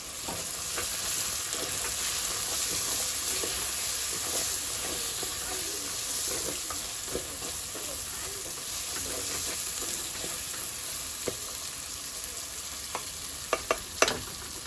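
Haitian rice and beans frying in a pot, stirred with a steady broadband sizzle and hiss throughout, plus a few sharp utensil scrapes and clinks near the end, close and moderately loud with no talking.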